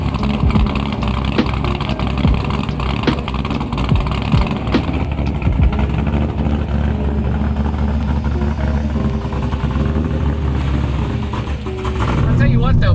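C5 Corvette with a loud aftermarket exhaust running steadily after start-up, a deep continuous engine rumble close by, with a person talking over it.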